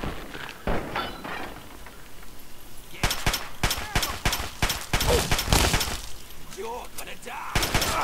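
Gunfire in the video game Fallout 3, a burst of sharp, loud shots in quick succession through the middle of the clip, with a few scattered bangs at the start and end, mixed with game noise.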